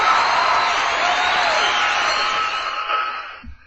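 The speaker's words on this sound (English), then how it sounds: "So they're cheering for Ben Cowan." A crowd cheering and whooping loudly for Ben Cowan, a dense, sustained roar that holds steady and then fades away near the end.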